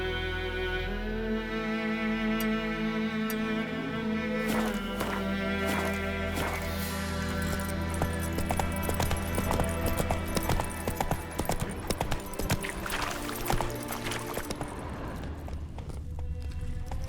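Roach the horse gallops with rhythmic hoofbeats in The Witcher 3, steady clip-clop running throughout, mixed with game music and ambient sound.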